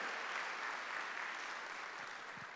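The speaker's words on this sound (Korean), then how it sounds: "박수." A church congregation at a Sunday worship service applauds, a faint, distant, even wash of many hands clapping that holds steady throughout with no voices on top.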